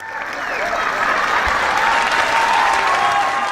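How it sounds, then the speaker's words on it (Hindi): An audience applauds comedian Raju Srivastav at a stage show, a dense, sustained wash of clapping from many hands that swells slightly and holds steady throughout. "Round of applause Raju sir के लिए, एक स्टैंडिंग ओवेशन हो जाए।"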